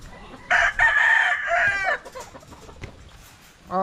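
A large rooster at a gamefarm crows loudly once, a long harmonic call, followed by scattered low clucks and farmyard noise, then another crow begins at the end.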